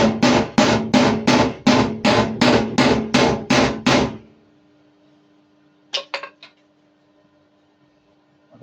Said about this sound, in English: I've got no idea how awful that hammering sounds